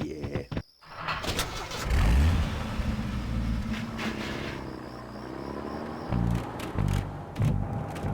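A vehicle engine in the video game Full Throttle starts with a cranking rumble, then revs loudly and unevenly over several seconds, with a few sharp rising surges near the end.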